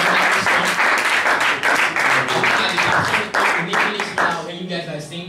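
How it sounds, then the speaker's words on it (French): Audience applause rings out for the French VOP at a church service, loud and sustained, a dense wash of many hands clapping that thins slightly toward the end, with some voices mixed in. "Let us clap for the French VOP."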